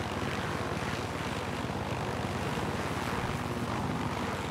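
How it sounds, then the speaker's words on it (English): A helicopter flies in the video game Far Cry 6, its engine and rotor making a steady, loud, continuous drone with no pauses for the whole stretch. "wonder if the helicopter is just faster in general."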